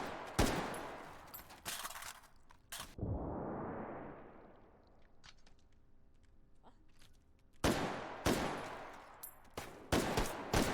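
Gunfire in a Goulash 2 speedrun of a shooter game at F2W 2022, as Sosigs are shot down: sharp loud bursts of several shots at the start and end, with a whooshing sweep and quieter shuffling in between.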